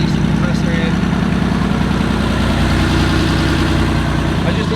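A Porsche 964 idling just after its first start-up: a steady, even low rumble with a fine rhythmic pulse, close and continuous for the whole stretch, with no talking over it.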